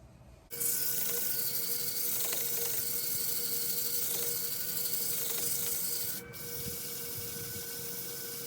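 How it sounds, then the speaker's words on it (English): Sandpaper held against a wooden bowl turning on a lathe gives a steady, close hissing rub with faint rhythmic pulses, starting abruptly after a quiet moment and dipping briefly near the end. "I decided to run some sandpaper across this."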